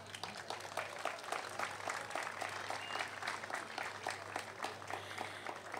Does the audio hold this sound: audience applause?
yes